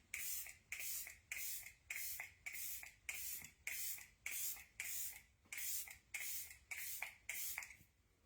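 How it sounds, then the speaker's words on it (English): Rapid bursts of a makeup setting spray pump misting, about a dozen short hissing puffs in a steady rhythm, close and fairly loud. "Do a little setting spray for some glow."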